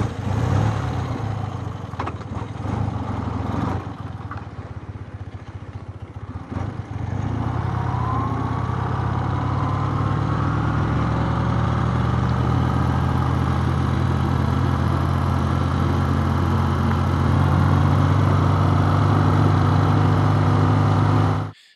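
BMW Airhead motorcycle engine running on a test ride, a loud, steady mid-pitched drone that revs and settles, with some clatter early on and then a constant running hum.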